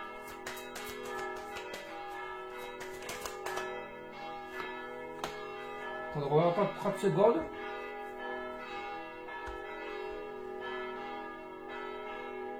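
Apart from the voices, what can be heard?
church bells ringing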